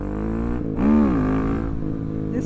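A custom street-legal Yamaha YZ450FX supermoto motorcycle runs close by, its steady engine drone swelling into one quick rev that rises and falls before settling back to a rough idle.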